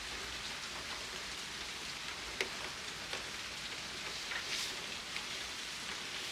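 Steady rain falls outdoors as a broad, even hiss with scattered louder drop taps, continuous and fairly close throughout, with no voices.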